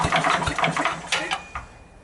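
Sears Craftsman 9HP wood chipper/spreader engine running, an uneven, sputtering putter that is close and fairly loud and fades toward the end.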